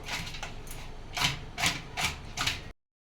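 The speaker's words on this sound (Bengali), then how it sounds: "এরকম ডলে ডলে হাত দিয়ে মাখিয়ে নেবো যে মশলাটা ভালোভাবে ভিতর অব্দি চলে যাবে" Hands rub a spice mix into corn kernels for a fried corn snack, making about five rhythmic, close scraping bursts that then stop into silence.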